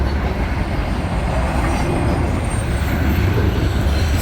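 Norfolk Southern 16R, a daily manifest freight train, passes close by with a loud continuous roar of wheels and rattling cars and a faint high wheel squeal.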